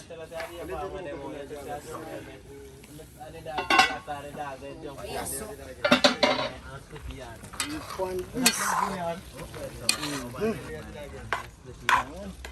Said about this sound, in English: So you put in the rice in the pot.